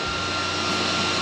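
Cooling fan inside a Miller welder whirring steadily, a loud, even broadband rush close by with no pauses and no talk.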